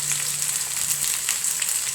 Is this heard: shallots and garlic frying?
yes